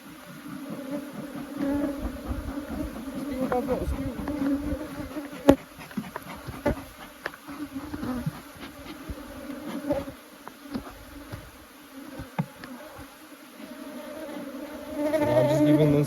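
Dense, steady buzzing of many honey bees close by at an open hive during honey harvesting, rising and falling in intensity, with occasional clicks and knocks and a louder swell near the end.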